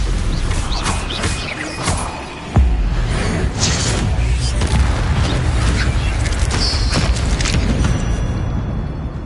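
The Incendio fire spell is cast in Hogwarts Legacy as loud, dense blasts and crackling crashes. A heavy boom hits partway through, and the rumbling bursts continue to the end.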